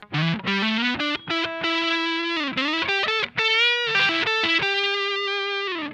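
Electric guitar through a Mad Professor Simble overdrive pedal plays a lively lead line with bends and sustained notes, gritty and loud, with no one speaking.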